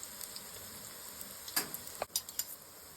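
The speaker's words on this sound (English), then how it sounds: "I'm going to fry for about 5 to 6 minutes per side" Potato pancakes frying in a pan, a quiet, even sizzle with a handful of small crackles and pops near the end.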